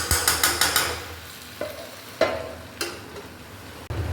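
Potatoes and eggplant frying in a pan are stirred with a spoon, giving a quick run of scraping clicks and then scattered knocks over a soft, steady sizzle, close and fairly quiet.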